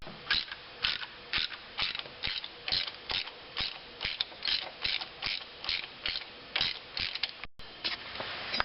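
Ratchet wrench turning out the last bolt on a water pump pulley during a water pump replacement: a steady run of quick, evenly spaced clicking strokes, close and clear, with a brief pause near the end.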